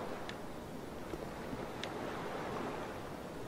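Waves and open water in Dark Souls 2, a soft continuous surf-like wash at low level with a couple of faint ticks, no speech.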